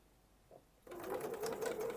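Sewing machine running steadily on a curved sleeve seam for a gathered keyhole-sleeve dress, starting after a brief quiet and a faint bump, then a close, even mechanical whir through to the end.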